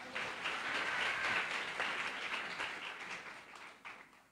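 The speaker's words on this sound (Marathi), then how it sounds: "जोराने टाळ्या वाजवू आपण" A congregation applauds at a church memorial service, a soft, fairly distant patter of many hands clapping that swells and then slowly tapers.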